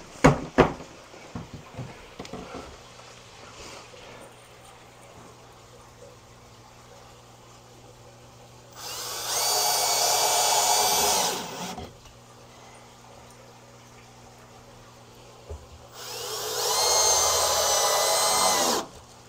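A power drill drives screws into plywood framing for a large saltwater aquarium, two loud sustained bursts of whirring with a few sharp knocks earlier and quiet between.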